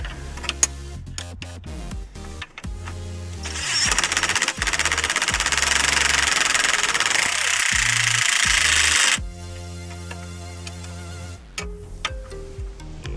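Ratchet or impact wrench tightening 19 mm front strut bolts on a 2003 Toyota Corolla, a burst of sharp rapid clicks followed by a sustained loud whirring buzz for several seconds, then a few scattered clanks close by.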